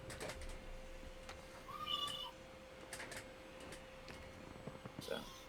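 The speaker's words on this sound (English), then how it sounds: "Cat." A cat meows once, faint and drawn out, in the background of a tabletop role-playing session, with people talking and light keyboard-like tapping around it.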